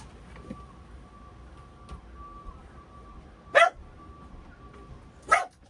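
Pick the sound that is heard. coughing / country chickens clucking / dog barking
dog barking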